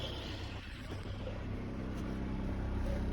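A 1991 Saturn SL2 engine idles with a steady, low, droning rumble and a faint whir on top, held evenly at moderate volume with no talking.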